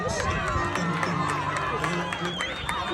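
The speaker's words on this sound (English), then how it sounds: "Give him a round of applause." At a BMX national event in Peckham, a crowd gives scattered applause and cheers that mix with outdoor hubbub, while people talk over the noise nearby.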